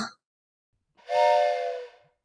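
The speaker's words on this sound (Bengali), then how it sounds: "ট্রেন ছেড়ে দিল।" A steam locomotive's whistle sounds once as a passenger mail train pulls out of Gomoh Junction, a single loud, breathy, sustained blast lasting about a second and fading away, with no talk.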